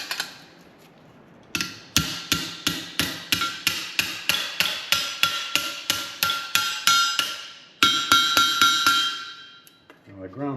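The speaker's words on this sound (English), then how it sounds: "I'm going to find my body hammer. And go off to the anvil." Body hammer striking metal on an anvil, some twenty sharp, ringing blows in an even rhythm, close and loud, with a short pause before a final few strikes.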